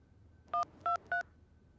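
A telephone keypad sounds three short, evenly spaced dialing tones, close and clear against a quiet background.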